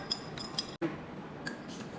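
A mixture is stirred in a container during a science class, giving light clinks and taps in an irregular rhythm close by, with one brief dropout in the middle.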